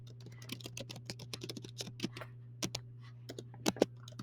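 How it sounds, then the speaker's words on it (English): Typing on a computer keyboard: irregular close key clicks in quick bursts and pauses, quiet over a steady low electrical hum. "I'm just typing in something"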